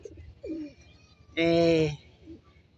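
A single loud racing pigeon coo rolls out for about half a second amid quieter background bird calls and faint rustling.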